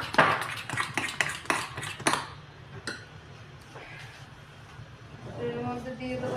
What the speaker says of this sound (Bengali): এটা ভালো করে ফেটাবে, ভালো করে ফেটালে বড়াটা ফুলবে